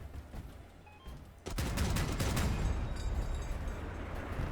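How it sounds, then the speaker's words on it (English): Massive artillery gun volley in the vehicle combat game Crossout, starting after a quieter moment with a burst of heavy booming blasts followed by a sustained loud rumble. "This is a huge ass artillery gun."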